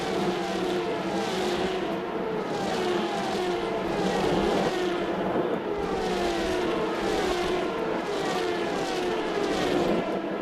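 Formula Renault 3.5 race cars on the grid at Spa in 2008, a dense, steady roar of many engines revving and idling together before the start, loud and continuous with rhythmic pulsing swells throughout.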